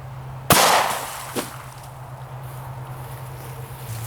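A single sharp, loud gunshot from a .45 ACP pistol loaded with Hornady Zombie Max ammunition cracks outdoors at zombie targets and decays over a second, followed by a fainter knock.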